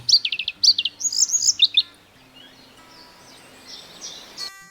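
A bluethroat sings close by in a marsh, delivering rapid bursts of high chirps and imitations of other birds' calls, loud at first and then fading into softer, more distant notes.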